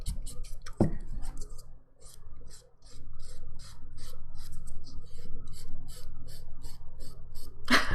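Rhythmic rasping strokes of a file buffing a dip powder manicure nail, close and steady, about two strokes per second with short pauses between passes.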